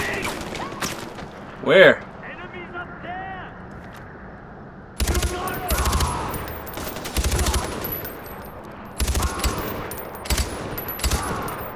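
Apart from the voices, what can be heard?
gunfire in Far Cry 4 video game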